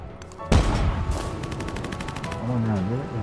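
A tank opens fire in the strategy game Civilization 7, a sharp loud blast followed by a rapid burst of repeated shots, with a voice talking over the end.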